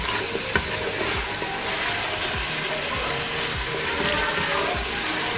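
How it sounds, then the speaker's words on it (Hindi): Kofta curry gravy masala fries in oil with a dense, constant sizzle. Rhythmic scraping strokes of a spoon stirring through the pan repeat steadily over it. "तीन से 4 मिनट हम इसको ऐसे ही अच्छे तरीके से ऑयल में इसको भूनेंगे।"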